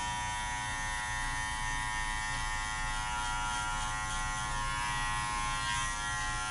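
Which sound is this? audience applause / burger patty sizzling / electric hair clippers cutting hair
electric hair clippers cutting hair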